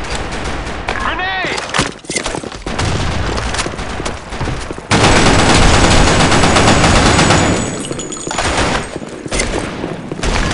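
Dense gunfire and a grenade blast in the Blackshot shooter game, with loud sustained bursts of automatic fire and a heavy explosion wash filling most of the scene.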